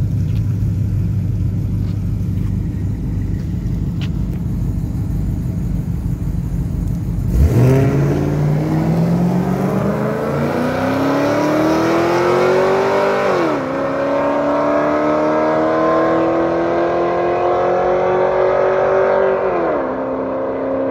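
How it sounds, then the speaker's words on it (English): A loud Mopar drag racing car idles, then launches down the strip, its engine note climbing steeply through several gear shifts as it pulls away, loud and close at first and growing farther off. "Yeah, this car's pretty loud."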